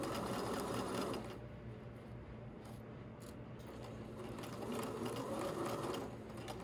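A sewing machine stitches the base seam of a fabric bag in a steady mechanical whir, running in two bursts with a softer, lighter stretch between them, fairly quiet and close.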